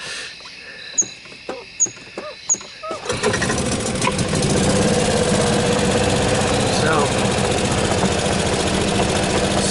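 A vehicle engine starts after a few sharp clicks and settles into a steady, loud, close idle that continues without a break.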